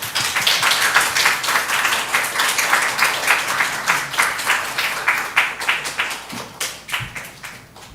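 Congregation at a church mission Sunday service claps to welcome a guest preacher, a dense, steady burst of applause filling the room for about eight seconds before thinning out near the end.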